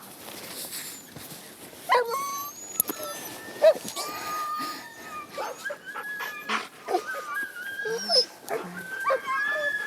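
Sled dogs of a mushing team whimper, yip and bark in overlapping bursts close by, high whines and short barks tumbling over each other almost continuously.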